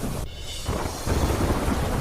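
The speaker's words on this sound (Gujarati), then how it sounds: "રાજસ્થાનના ભીલવાડામાં વરસાદની ધમાકેદાર બેટિંગ." Heavy monsoon rain pours steadily in Bhilwara, Rajasthan, as a deep rumble of thunder rolls through, the downpour dense and close throughout.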